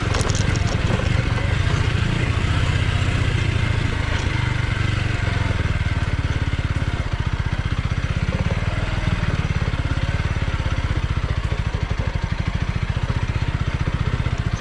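A motorcycle engine drones steadily and loudly throughout, ridden along a narrow, rough road, its mid-pitched rumble constant and close with no talk over it.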